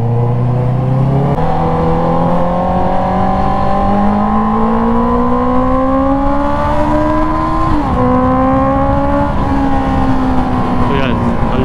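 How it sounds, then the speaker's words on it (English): Honda CB650R motorcycle exhaust on a highway ride, a loud steady engine drone rising in pitch through the gears with brief dips at shifts, continuous and close throughout. "ang lakas ng muffler niya"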